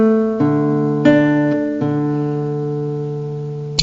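Classical guitar playing a short Country Dance passage: a few plucked notes and chords ring out in turn, each clearly separated and left to sustain, up close with no talking.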